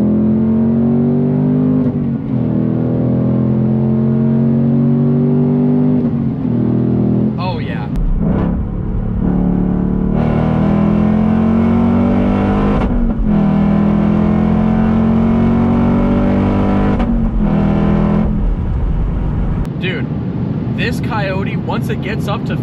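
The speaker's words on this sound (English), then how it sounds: "maybe let's get another pull here and see what it feels like if we do floor it" A 2024 Ford Mustang Dark Horse V8 pulls hard at full throttle, engine note rising steadily through the revs with brief dips at gear changes, loud and close from inside the car, with someone talking over it.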